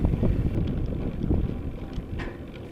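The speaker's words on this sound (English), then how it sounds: "I was getting battered by the wind" Heavy wind buffets the microphone in low, rumbling gusts as a cyclist climbs a mountain pass in the Pyrenees near the Col de Portet, loud and continuous throughout.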